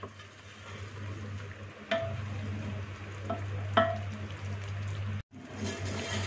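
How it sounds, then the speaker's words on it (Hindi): Mutton korma being stirred with salt in a pan for a white shahi korma, a steady low sizzle with a few scraping clicks of the spoon, close up and without talk, cutting out briefly near the end. "इसको अच्छे से मिक्स कर लेंगे।"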